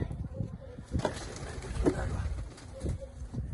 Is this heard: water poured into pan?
no